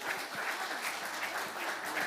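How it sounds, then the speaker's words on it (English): A church congregation claps during a Good Friday service, a brief burst of many hands clapping together at a moderate distance. "why don't you give Him a big round of applause as we sing"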